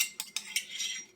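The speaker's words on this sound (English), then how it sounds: "So we're going to take it out of the mortar and pestle" A spoon scrapes crushed garlic and coriander seed paste out of a mortar and pestle, giving three quick metallic scrapes followed by a longer grating drag, close and fairly quiet.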